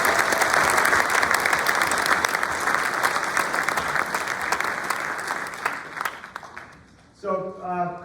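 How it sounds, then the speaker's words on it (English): An audience at a public meeting about offshore wind claps steadily for several seconds, the dense applause thinning out toward the end before a voice begins speaking. "So let's give them a nice round of applause."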